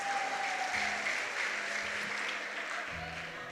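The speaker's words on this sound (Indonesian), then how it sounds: "tepuk tangan dulu buat Tuhan Yesus" Congregation clapping for Jesus during an Indonesian church sermon, a dense, even wash of applause lasting a few seconds at moderate level, slowly tapering without voices on top.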